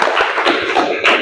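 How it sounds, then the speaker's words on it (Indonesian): Classroom clapping during an Indonesian school lesson, a burst of hand claps from a small group of students, close and fairly loud, with a few distinct slaps standing out over a steady patter. "Oke, bagus sekali, tepuk tangan."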